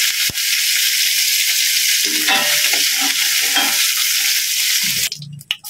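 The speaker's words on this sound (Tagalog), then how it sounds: "Lagyan natin dito guys sa lagayan para magisa natin yung ating sibuyas, bawang at saka luya." Onion, garlic and ginger sauté in a hot pan with a steady close sizzle, broken by a few scraping stirs near the middle and a clatter at the end.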